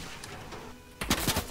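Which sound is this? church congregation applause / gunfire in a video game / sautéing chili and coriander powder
gunfire in a video game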